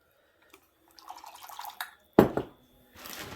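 Hot water is poured over food in a dish for a simple pantry meal, giving short splashing and trickling bursts with a light clatter of cookware, alone and close by.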